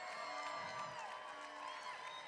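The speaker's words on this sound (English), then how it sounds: "Right now, just yell, scream, and cheer for all of your stage crews" A show choir competition crowd yells, screams and cheers for the stage crews, a dense, continuous roar of voices and whoops filling a large hall throughout.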